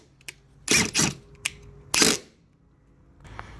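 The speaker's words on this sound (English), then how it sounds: "go ahead and insert our two Phillips screws, one here and one up here" Phillips screws being driven and tightened by hand into a 2002 Honda CR-V driver-side taillight, a few short close mechanical clicks and scraping bursts with quiet gaps between.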